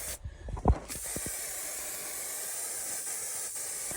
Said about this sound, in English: you spray it, fixing it with the spray.